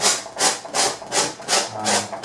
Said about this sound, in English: What I do now is that I scrape, as you see now, scrape away